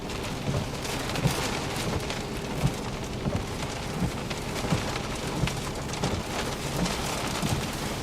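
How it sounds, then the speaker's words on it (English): Heavy rain from a winter storm pours down steadily on Vancouver Island, a dense hiss with soft thuds of drops and faint distant rumbles under the downpour. "What do you think of that storm?"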